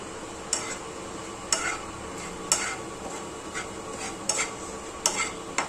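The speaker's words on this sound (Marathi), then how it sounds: "तोपर्यंत इकडं हे बेसन भाजून घेते मी" Gram flour being dry-roasted and stirred in a pan for Puneri misal, with a spoon scraping the pan in sharp, regularly spaced strokes over a soft, steady background hiss.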